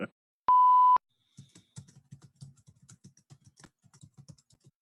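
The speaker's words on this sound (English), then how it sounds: "We can hear you typing." A short electronic beep, then a run of soft, irregular clicking keystrokes from close by, typing steadily with small pauses.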